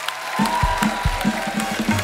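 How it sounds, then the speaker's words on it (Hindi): Studio audience applause on a Hindi comedy talk show, heard briefly alongside rhythmic thumping music beats, the clapping fairly steady and mid-level throughout. "एक बार जोरदार तालियां हो जाएं हमारे कलाकारों के लिए"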